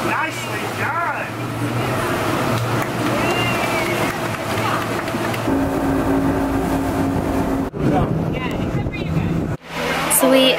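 A tour boat's engine drones over the water off Saint Lucia with wind and splashing, while several people talk and call out over the noise.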